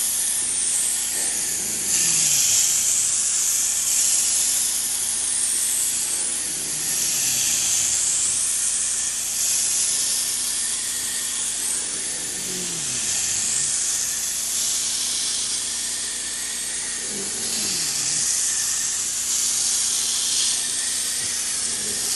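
Carpet cleaner extractor working over a dirty fabric couch, a steady hissing spray and suction with repeated strokes every few seconds, close and continuous without talk.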